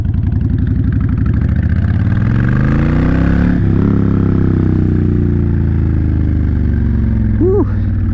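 Honda Fury VT1300 cruiser motorcycle running steadily, a deep, loud rumbling engine note that rises slightly as it pulls away and then holds a constant throb while riding.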